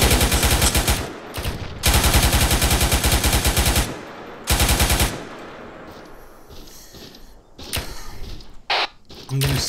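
Machine gun bursts during a military field training exercise, loud rapid rattling volleys in several long strings separated by pauses, with quieter distant fire and radio-style talk in between.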